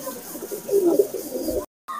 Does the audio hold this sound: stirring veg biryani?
no